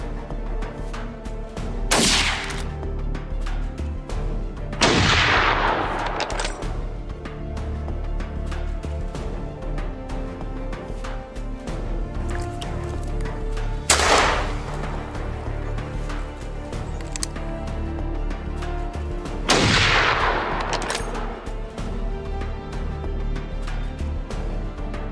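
Hunters fire rifles on a farm to protect free-range chickens: four distant, booming shots spaced several seconds apart, each with a rolling echo, heard over a steady background music bed.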